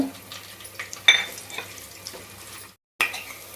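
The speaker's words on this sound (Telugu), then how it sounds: "ఇప్పుడు వచ్చేసి ఆనియన్స్ వేసుకుంటున్నాను వేయించి పెట్టుకున్న ఆనియన్స్" Onions sizzle steadily in hot oil as they are stirred into a pan for paneer biryani, with a spoon scraping and clinking against the metal. The sound cuts out briefly near the end, then the sizzle returns.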